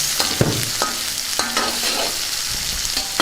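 Chopped onions stirred in a hot pan of tempering spices for a spinach tomato curry, giving a steady sizzle with soft scraping stirs and small crackles, close and continuous.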